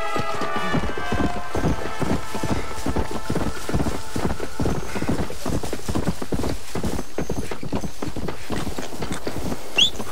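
Rapid, rhythmic hoofbeats of a galloping horse in Red Dead Redemption pound on steadily, loud and close, with a brief whinny near the end.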